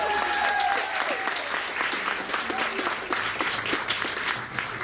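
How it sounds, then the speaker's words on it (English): A crowd applauds warmly in a hall for Laramie's 60th anniversary, steady dense clapping throughout with a few voices and a brief whistle early on. "I think that deserves a round of applause"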